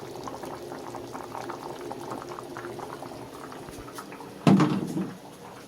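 Fish curry made with salted dried fish bubbling in a pot, a soft continuous boil with rising bubbles, then a sudden louder clank and splash near the end, no voices.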